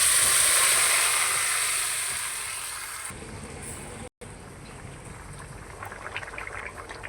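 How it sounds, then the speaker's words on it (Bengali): Crushed garlic and onion tempered in hot oil for a dal with papaya, a loud hiss and sizzle at first that gradually fades, then a quieter crackling simmer close by. "আমি এখন বাগার দিয়ে দেব।"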